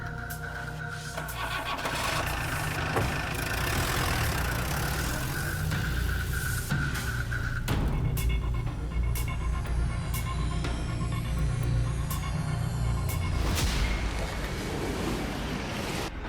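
A scooter engine runs steadily with a broad, rough rumble, loud and continuous throughout, with a few clicks and knocks over the drone and no speech.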